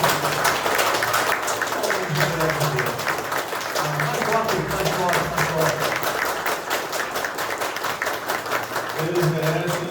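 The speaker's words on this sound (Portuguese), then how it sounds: "Uma salva de palmas para todos." A church congregation applauds at a service marking a year of mission, steady clapping running throughout with voices and some tonal sound mixed in beneath it.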